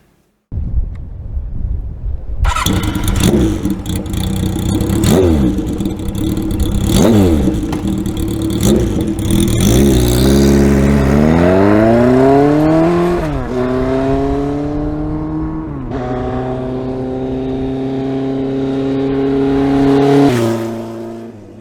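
A loud Kawasaki KZ900 motorcycle with a four-into-one exhaust revs repeatedly, then climbs through rising gear pulls with a raspy, throaty exhaust roar and some wind noise.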